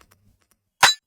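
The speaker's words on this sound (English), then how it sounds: "Then we have the snare. Again, it's from shadow samples," A single snare drum hit from a Shadow Samples pack, short and snappy with a bright crack, heard alone after near silence.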